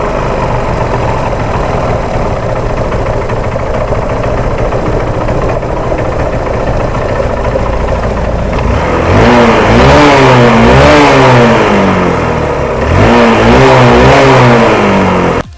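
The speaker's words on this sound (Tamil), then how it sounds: "இப்போ ஃபைனலாக வண்டியை ஸ்டார்ட் பண்ணி பார்க்கலாங்க" Honda Unicorn motorcycle engine running after a carburetor replacement: a steady, close idle, then two rising and falling revs in the second half.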